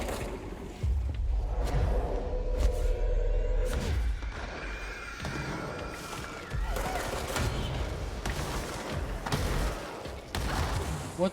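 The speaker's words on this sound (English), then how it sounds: "What the heck are all of these explosions," Explosions in the video game Control: a dense barrage of booms, thuds and slams with whooshing bursts, repeated blasts over several seconds, loud and continuous.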